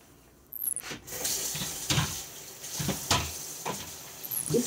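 Water splashes over a dish drainer being rinsed at a kitchen sink, a run of close splashes and clattery knocks in irregular bursts over a low background hiss.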